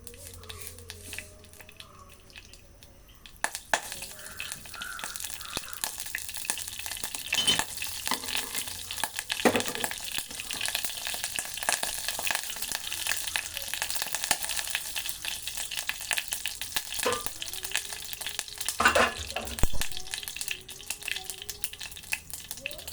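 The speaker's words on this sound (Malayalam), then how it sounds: "അപ്പം ഞാൻ ആദ്യം കടുക് അങ്ങോട്ട് ഇടുക." Mustard seeds crackle in hot oil in a pan for Kerala moru curry, a quiet start giving way to a continuous close sizzle dotted with sharp pops and a few louder bursts.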